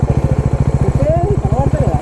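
A Bajaj Dominar 400 motorcycle engine throbs in a fast, even rhythm while riding. A voice is heard briefly over it.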